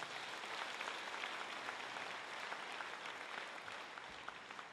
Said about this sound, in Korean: 다시 한번 큰 박수로 격려해 주시기 부탁드립니다.